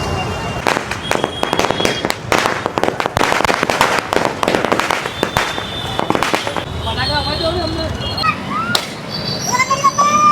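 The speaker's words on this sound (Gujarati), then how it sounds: "મેગા સોની કંપનીના આ આતશબાજી છે જે બાર શોટ છે એનું લાઈવ ટેસ્ટિંગ પણ આપણે કરી નાખીએ" A rapid series of sharp bangs from a twelve-shot firework cake cracks out over several seconds, close and loud, then fades into whistling and chatter from nearby people.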